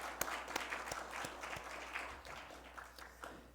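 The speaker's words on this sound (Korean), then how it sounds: "박수로 여러분들 감사하겠습니다" A church audience at a Korean Methodist lay retreat worship service claps, scattered sharp claps blending into soft, fairly distant applause that thins out toward the end.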